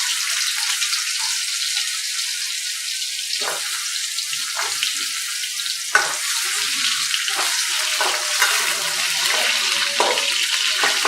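Sweet potato frying in hot oil, a bright, close hiss of sizzling with scattered pops and crackles spread across the whole stretch, steady and fairly loud with no talking.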